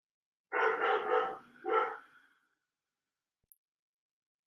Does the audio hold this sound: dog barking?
yes